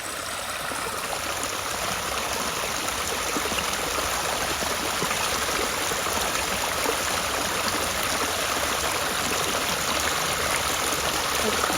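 A multi-tiered waterfall and stream along the Appalachian Trail in Pennsylvania roars steadily, a constant broadband rush of falling water heard close up without a break.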